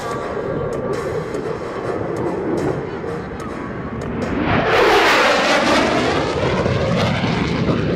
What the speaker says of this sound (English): He's coming back around and going to give you one more speed pass.